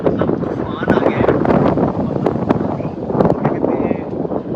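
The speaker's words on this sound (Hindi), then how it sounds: "बहुत तेज़ हवा चल रही है" Strong storm wind roars and buffets the microphone on a mountain road on the Gangotri pilgrimage route in Uttarkashi, a loud, continuous rush with sharp gusty bursts.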